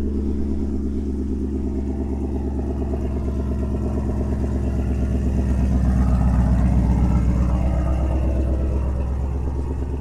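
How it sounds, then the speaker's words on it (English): A Ford Coyote V8, a Gen 3 with direct injection, idles steadily with a loud exhaust, a deep pulsing rumble that swells briefly midway before settling back, with no talking over it. "Loud exhaust, quiet engine."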